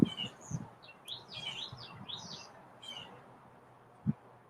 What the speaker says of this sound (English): There's like weird trilling and I don't know. I think there's some bird romance going on here